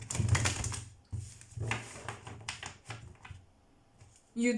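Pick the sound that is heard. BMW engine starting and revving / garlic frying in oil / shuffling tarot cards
shuffling tarot cards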